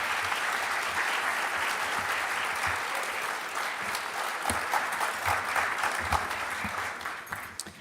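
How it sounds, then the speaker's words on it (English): At a paramedic program graduation, the audience gives the faculty a sustained round of applause: a steady, full wash of many hands clapping that thins slightly toward the end, with almost no talking. "Please join me in a round of applause for these faculty."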